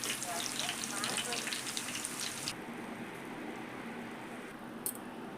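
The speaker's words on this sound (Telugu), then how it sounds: "ఆయిల్ వేడెక్కించింది, ఫిష్ ఫ్రై వేసుకున్నాను." Fish frying in hot oil, a dense loud sizzle that drops suddenly to a quieter, steady crackle partway through, with no speech.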